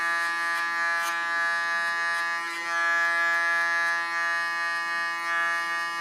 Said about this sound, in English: I have to wiggle with my clipper also and with my comb